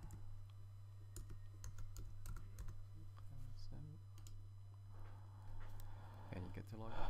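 Username and password being typed on a computer keyboard to log in, a run of sharp key clicks close by and steady, with a low hum underneath and someone speaking through part of it.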